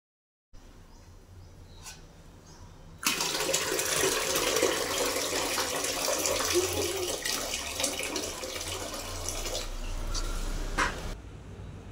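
Rainwater being cleared from a balcony: after a brief quiet start, a steady close splashing and pouring of water sets in and runs continuously, broadband and unbroken, with no talking.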